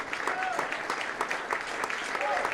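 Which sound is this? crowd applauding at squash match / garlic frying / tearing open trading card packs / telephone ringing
crowd applauding at squash match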